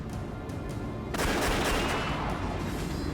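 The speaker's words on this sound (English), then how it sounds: "had been listening to the gunfire, waiting for a gap in the barrage" Dense, continuous gunfire barrage in an animated drama's shootout, with rapid overlapping shots and booms that swell even louder midway, close and unbroken throughout.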